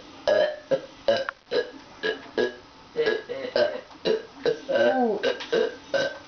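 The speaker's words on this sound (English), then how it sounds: "I'm back with more burps" A young man lets out a string of loud, close burps, about a dozen throaty belches in quick succession with short gaps between them, some drawn out and croaking.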